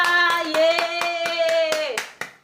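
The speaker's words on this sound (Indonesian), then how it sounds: "Tepuk tangan untuk Aifa." Pupils in a classroom clap for a classmate, Aifa, in a brisk, evenly spaced series of sharp claps beneath a sustained, sung vowel from the group that slides down and fades, followed by a final clap.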